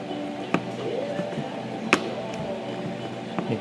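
A plastic parking sensor snaps into its mount on a car bumper during an aftermarket reverse parking sensor install, giving a few sharp close clicks over a faint background hum.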